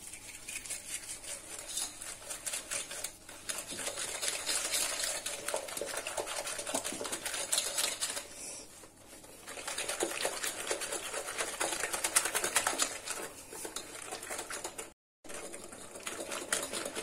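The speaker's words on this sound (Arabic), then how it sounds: "غادي نزيد عليهم سكر سنيدة 200 غرام، وغادي نخلط مزيان هاد العناصر" Three eggs and 200 grams of granulated sugar being beaten for a peanut cake batter: a steady, buzzing whir runs throughout, briefly dipping and cutting out near the end.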